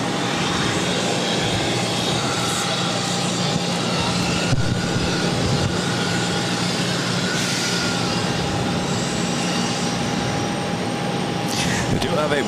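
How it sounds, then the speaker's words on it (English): A Porter Dash 8-400 turboprop airliner drones steadily at Boston Logan, a continuous engine hum with a sustained tonal whine, while people talk over it intermittently. "We do have a Porter Dash 8400 heading to Ottawa"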